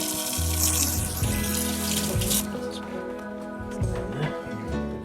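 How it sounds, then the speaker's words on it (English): Cold tap water runs steadily over a salt-cured salmon fillet in a sink, a continuous close splashing and gushing that shifts as the fish is moved and handled beneath the stream. "Here I'm just rinsing off the remaining salt with cold running water."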